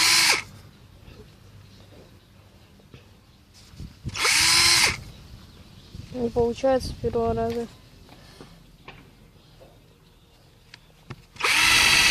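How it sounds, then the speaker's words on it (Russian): Electric drill with a torn sock attached to its chuck as a makeshift fan, whirring loudly in two short bursts and again at the end, with speech in between. "Это свой вентилятор можно сделать из дрели и носка."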